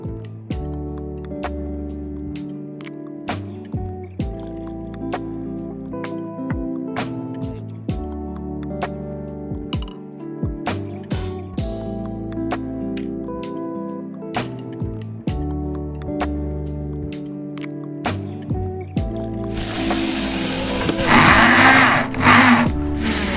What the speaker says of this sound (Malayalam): ഇനി നമ്മൾ വൂഫർ സ്ക്രൂ ചെയ്യുക